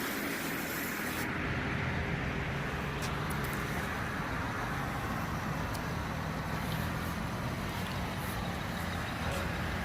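Steady roar of road traffic on a busy road, cars and trucks passing continuously at close range with broadband tire and engine noise, no talking over it.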